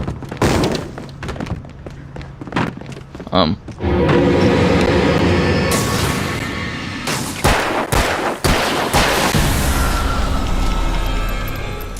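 Flashbang blasts and combat noise in the video game Alan Wake, several sharp loud bangs with crackling bursts scattered through the clip, a sustained dense roar in the middle, and someone talking intermittently.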